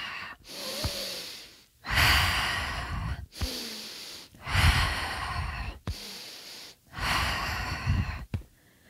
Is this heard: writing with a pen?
no